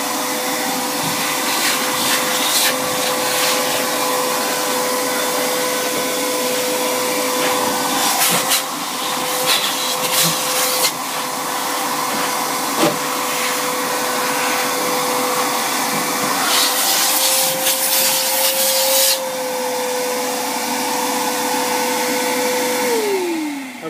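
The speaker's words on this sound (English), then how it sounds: "I just take my regular shop vac." A shop vacuum runs loudly and continuously, its steady motor whine shifting pitch as the nozzle moves and catches debris around an air conditioner air handler, then winding down at the end.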